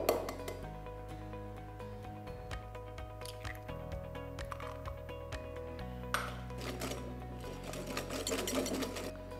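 Sugar and margarine being creamed for orange pineapple muffin batter, a steady motorised whir that shifts pitch as the mixer works, with occasional light clinks against the bowl.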